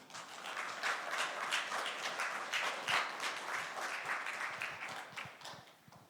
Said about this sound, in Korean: 큰 박수로 우리 맞이하도록 하겠습니다